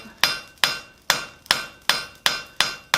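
Hammer blows on hot steel being forged into a coal shovel, eight sharp, evenly spaced ringing strikes about every half second, close and alone with no talking.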